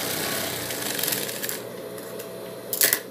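Overlock sewing machine stitching fabric for a face mask, a fast rattling whir with short bursts and pauses, close and fairly loud, ending in a quick clack.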